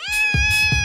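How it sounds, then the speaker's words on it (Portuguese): A USB prank gadget plays a cat's meow, one loud, close, sustained tonal cry with a slightly rough, wavering texture, heard alone. "gato"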